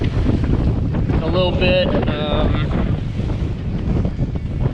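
Strong wind buffets the microphone while large waves of around ten feet wash and roll around a sailboat at sea. Wind and water make a steady, loud roar, and a voice speaks briefly.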